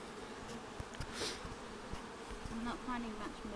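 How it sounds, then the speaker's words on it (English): Honey bees drone steadily at an opened hive during a colony split, a close, continuous buzz with a few individual bees whining past. "All the field bees will return back to the original colony"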